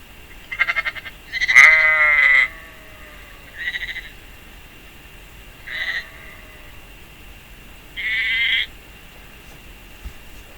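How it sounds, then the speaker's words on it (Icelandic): An Icelandic sheep, a lamb calling for its mother, bleats several times in separate nasal cries spaced over several seconds, clear and fairly close against a quiet outdoor background. "kindur jarma."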